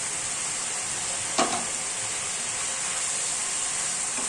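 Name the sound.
tangra fish and cauliflower curry cooking in a pan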